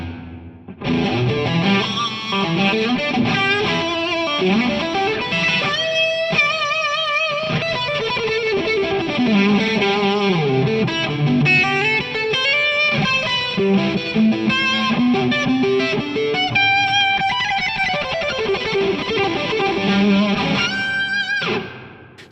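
Electric guitar played through a Revv Generator amp with reverb, running intro licks; a loud, continuous, distorted lead line of fast melodic runs and sustained bends throughout, with no talking.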